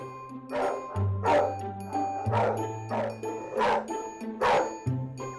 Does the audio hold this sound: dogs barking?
yes